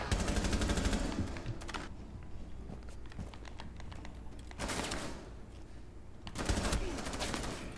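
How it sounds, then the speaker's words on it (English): A Rainbow Six Siege gunfight, with bursts of rapid automatic gunfire in three clusters separated by quieter stretches of scattered shots and movement, played fairly loud and close. "Okay, first gunfight."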